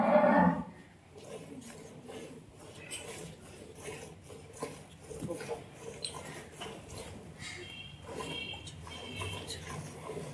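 A Jersey-Friesian cross cow for sale gives a loud, close moo at the start, followed by quieter farmyard noises and people talking.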